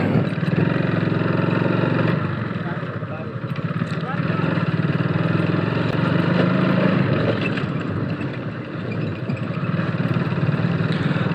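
A motorcycle being ridden, its rear end swaying from side to side, gives a constant engine drone under a rider talking throughout.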